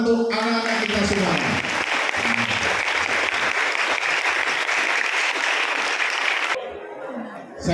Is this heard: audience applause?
yes